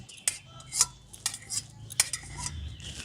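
A metal spoon scoops soft boiled carrots into a strainer, giving a handful of sharp, close clinks and scrapes spread irregularly over a few seconds, with no talking.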